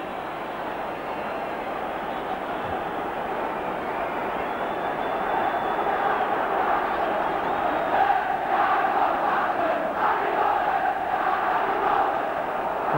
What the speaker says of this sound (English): Crowd certainly a little unhappy with the referee.